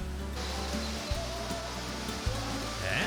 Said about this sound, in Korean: 원시 열대림에서 흘러내리는 폭포에 더위가 싹 씻겨 내려가는 듯하다.